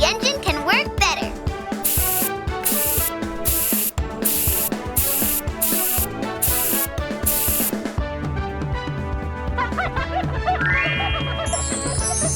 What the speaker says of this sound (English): Let's spray some cleaning liquid, and the engine can work better.